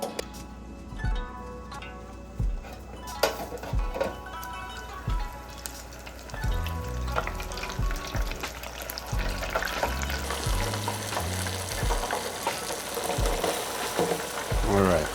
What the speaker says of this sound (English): this calamari gets fried anywhere from 2 to 3 minutes